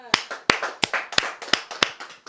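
A small studio group claps in sharp, separate hand claps, about a dozen loud, close strikes over two seconds, with no talking.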